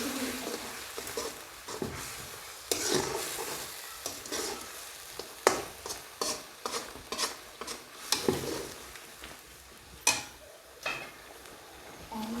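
Turmeric, cumin, coriander and garam masala powders are stirred and fried for chicken curry, a low sizzle broken by repeated sharp spoon scrapes and taps against the pot, uneven in rhythm and fairly close.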